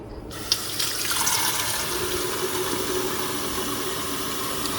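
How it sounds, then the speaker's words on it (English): Water pours steadily into the reservoir of a Keurig K-Supreme coffee maker, a continuous splashing rush that begins with a small clunk and carries on evenly. "So now you can add your water."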